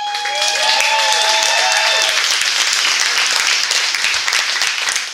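A crowd at a theme-park announcement for the Valravn dive roller coaster cheers and applauds loudly, a dense wash of clapping with whoops and high shouts rising at the start, then sustained even applause.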